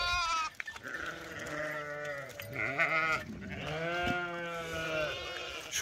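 Ewes in a flock bleat near their lambs out in the open countryside, with long, loud, overlapping calls sounding continuously and close by.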